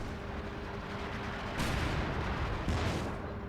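Calliope rocket artillery fires from a distance in a Company of Heroes 2 2v2 match, with muffled booms over a dense rumbling battle bed and two stronger bursts of impacts in close succession.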